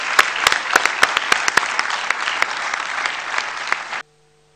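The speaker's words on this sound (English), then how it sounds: "Please, everyone, could you give your applause to an excellent set of panelists we've had" An audience at a morning conference panel session applauding the panelists, a steady loud burst of clapping lasting about four seconds before stopping abruptly.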